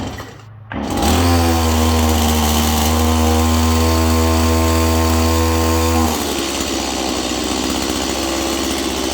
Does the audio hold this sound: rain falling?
no